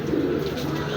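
A Maxi knot pigeon coos in a short, soft, low burble, close by, with faint voice in the background.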